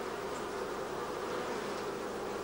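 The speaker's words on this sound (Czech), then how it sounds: "Jsou to Junini bratři, kterým se říká trubci" Drone honeybees buzzing, a steady close-up hum of larger male bees with big eyes, continuous and fairly loud with no talking.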